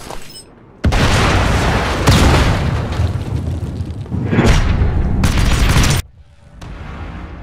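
Detonator explosion in the shooter video game Modern Combat 5: a sudden loud boom that swells into a sustained roaring rumble, with further blasts layered in before it cuts abruptly to quieter background.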